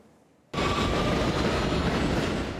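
A New York City subway train rushes in after a brief quiet start, becoming a loud, steady roar of wheels on rails with a faint whine on top.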